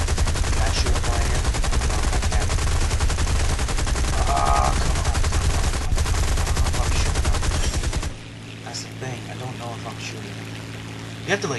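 Fighter plane guns in War Thunder firing a long, continuous, loud rattling stream over steady engine drone for about eight seconds, then cutting off to leave quieter engine hum with faint distant sounds.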